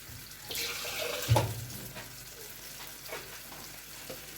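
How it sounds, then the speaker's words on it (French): Water running from a kitchen tap into a container for a sauce, a brief soft splash and trickle heard close by in a quiet kitchen, with faint sizzling from cooking in the background. "je vais mettre un peu d'eau pour le suite de la recette et je verserai dans ma sauce après"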